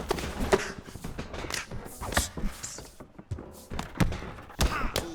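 Punches landing in the video game EA Sports UFC 5, a string of dull thuds and thumps of impacts at irregular intervals, moderately loud, with crowd ambience underneath.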